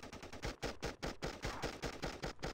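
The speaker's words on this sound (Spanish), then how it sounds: "Me muevo mientras disparo" Rapid bursts of automatic gunfire from the mobile shooter game The Respawnables, loud and close, firing in short repeated volleys with brief pauses between them.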